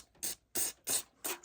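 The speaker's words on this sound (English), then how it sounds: "with this aerosol, with this gunk blaster, it comes out pretty good and powerful" Gunk Blaster aerosol sprays onto a Smith and Wesson Shield pistol during cleaning, in four short, forceful bursts with brief pauses between them. The hiss is close up and there is no talk.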